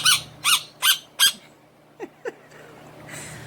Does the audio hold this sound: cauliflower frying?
no